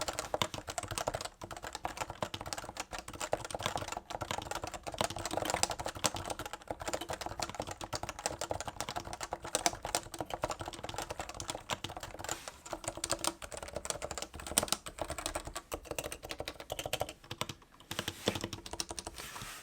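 Steady, continuous typing on a Topre tenkeyless keyboard with soft, muted keystrokes clicking in quick succession, close up, with no voices.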